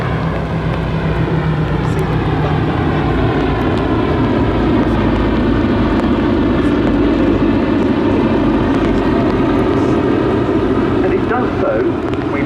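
A Second World War plane flies at an airshow at Duxford, its engine a loud, steady drone that fills the scene while a commentator talks over it on the public address.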